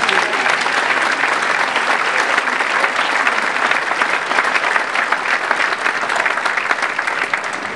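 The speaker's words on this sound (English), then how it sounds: "Let's give them a big hand." An audience at a banquet honoring women leaders in the North American auto industry applauds mothers of the honorees, giving loud, sustained clapping from a large crowd throughout.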